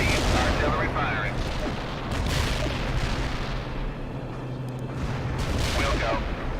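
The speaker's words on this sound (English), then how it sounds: "Coordinates received. Artillery firing." An artillery barrage in the strategy game World in Conflict, with heavy booming fire and rolling rumble throughout, interrupted by a few sharper bursts. Unit voices talk over the bombardment.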